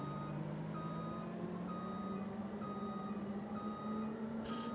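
Repeated reversing beeps from a truck backing up in the farming video game Farming Simulator 25, a steady evenly spaced series of tones heard continuously over engine rumble, with no talking.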